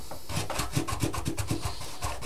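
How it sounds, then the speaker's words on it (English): Sandpaper rubbing back and forth across the bottoms of plastic model parts for a City Classics service station kit, a close, steady series of short rasping strokes in an even rhythm. "I'm just going to sand the bottom of these a little bit."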